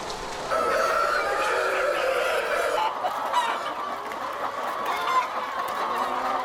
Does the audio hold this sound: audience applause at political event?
no